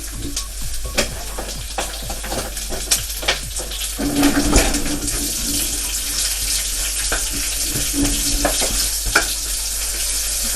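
Two small sliced onions fry in oil in a pan for a fish molee, giving a steady hiss and sizzle with intermittent stirring scrapes close by.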